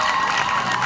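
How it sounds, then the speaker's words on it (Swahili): An audience at a public gathering in Narok, Kenya claps for a county fisheries chief officer, a dense steady wash of handclaps with some crowd noise, filling the whole moment without a break. "Tushangilie kwa makofi."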